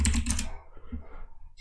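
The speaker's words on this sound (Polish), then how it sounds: "Ja sorry za głośną klawiaturę" A short burst of loud computer keyboard keystrokes, close and clattery, then fading into a low hum with a faint click at the end.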